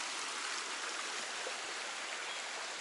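A creek flows steadily beside a campsite on the Appalachian Trail, a continuous, even rush of water with no breaks and no voices over it.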